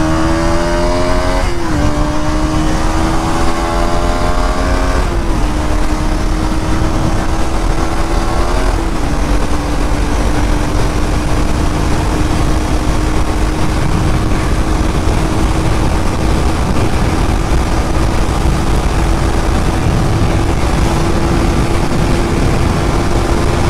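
A KTM Duke 200 motorcycle being ridden on a test ride after a handlebar wobble fix. The engine climbs through a few quick gear shifts early on, then holds a steady droning cruise under heavy wind rush.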